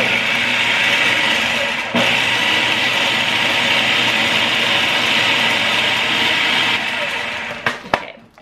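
A food processor runs on its low setting, blending herbs into a paste for a black cod and couscous dish; a steady, continuous whir holds for about eight seconds, with a brief dip near two seconds, before cutting off.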